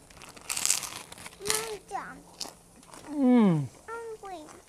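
Crisp crunches of biting into a New York style pizza slice, a couple of close bites near the start, followed by a person talking.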